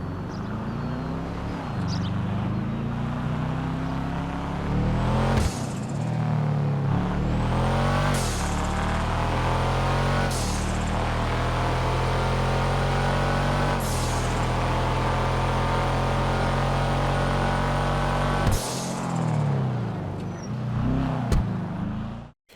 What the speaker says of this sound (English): with how loud the turbo flutter is on this car, the blow off is so loud